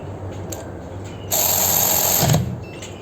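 A Keelat KRW003 long-reach brushless ratchet wrench runs in a single burst of about a second, a loud whirring buzz that starts abruptly and cuts off, set between quieter handling noises.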